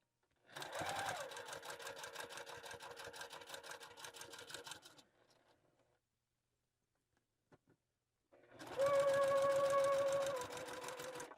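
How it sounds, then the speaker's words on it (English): A sewing machine stitches fabric for a bow tie in two long, fast, steady runs separated by a quiet pause with a few small clicks, close and clear, with no talk. "just sew straight off the edge"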